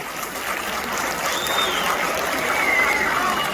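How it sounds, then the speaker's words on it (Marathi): Audience applause at a Chaitra month cultural gathering of the Maharashtra Mandal in Qatar: steady, dense clapping from a crowd that holds at an even level throughout, with no talk over it. "टाळ्या तर झाल्याच पाहिजे"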